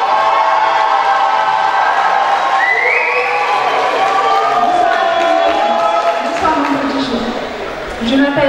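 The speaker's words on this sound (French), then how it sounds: "Applaudissements pour Jade." An audience at a beauty pageant applauds and cheers for a contestant, a dense continuous wall of clapping and shouts with an announcer's voice running over it.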